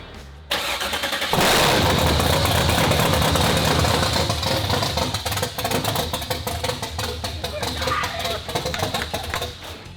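A 491 horsepower small block Chevy engine cranks briefly, then fires and roars to a loud, rough idle with uneven lopey pulses, close by and filling the clip, with a voice briefly audible.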